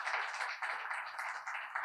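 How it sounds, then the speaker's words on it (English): Steady applause with dense, even clapping from a crowd, filling the short moment without any talking. "Maybe a big round of applause to her as well"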